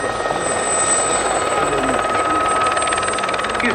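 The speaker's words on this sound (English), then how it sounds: "I mentioned it is a small helicopter, rotor diameter of 10 metres." Gazelle helicopter, a small military type with a 10-metre rotor, flying at an airshow, giving a steady loud rotor and turbine drone with a whining tone throughout, nearby and unbroken.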